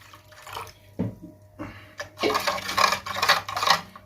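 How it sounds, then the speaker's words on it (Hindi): Water poured into a sugar syrup for laddus, heard as intermittent splashing and trickling bursts that grow busier and louder toward the end, with no talk. "ये अभी इसमें पानी डालेंगे, थोड़ा पतला करेंगे"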